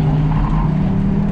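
A Mitsubishi Lancer on worn tires runs flat out around a race track, its engine droning loud and steady with a strong low hum throughout, no voices heard.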